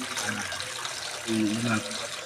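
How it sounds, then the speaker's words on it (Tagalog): Water poured into a cooking pot holding mung bean stew, a steady close splashing and trickling heard throughout with a brief low hum partway through. "Pag-add tayo ngayon ng tubig."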